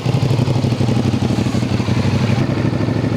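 A 2023 CFMOTO 450SR motorcycle engine runs close by with a steady, throaty exhaust note, its even pulsing rumble holding level without talk.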